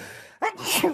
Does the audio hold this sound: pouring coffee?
no